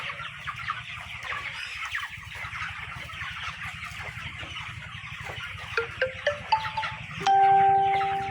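Flock of 26-day-old broiler chickens clucking and chirping steadily throughout, with a low hum underneath, some louder calls near the end and a brief electronic tone at the close.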